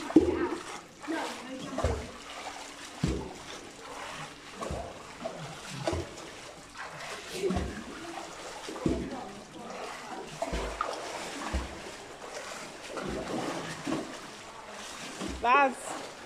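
A person swims laps in a hotel pool, producing rhythmic splashing strokes at moderate distance, heard under frequent talking and exclamations from onlookers.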